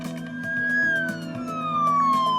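An ambulance siren wails in a slow, falling tone, loud and close, with a steady low engine rumble underneath.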